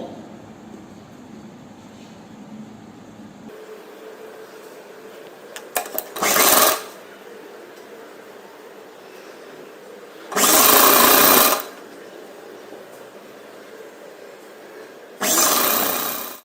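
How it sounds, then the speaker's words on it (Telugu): A sewing machine runs a seam through three layered lehenga sleeve pieces, heard as three short, loud, whirring bursts of stitching about a second each, separated by quieter pauses. "ఇప్పుడు ఈ మూడింటిని కలిపేసి ఒక స్టిచ్ వేసేసుకోండి."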